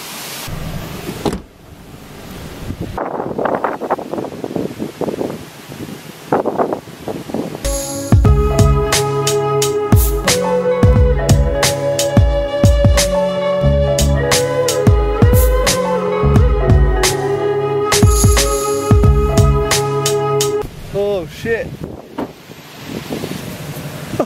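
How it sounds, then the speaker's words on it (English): Strong, gusty wind buffets an outdoor microphone near a camera tripod, roaring steadily with loud rumbling surges and rattling; no talk. "it is so windy out here"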